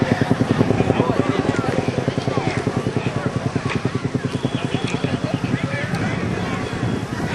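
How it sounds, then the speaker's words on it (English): A Boeing CH-47 Chinook helicopter at an air national guard base airshow throbs with a steady, rapid rotor beat throughout, loud and close, with wind buffeting and a voice talking over it. "The aircraft being used in today's demonstration is the Boeing CH-47 Chinook"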